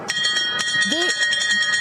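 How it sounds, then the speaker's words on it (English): Several bells rung in turn by a six-member astronaut crew, sounding as repeated bright metallic strikes with sustained ringing tones, mixed with a voice speaking. "each one is ringing a bell"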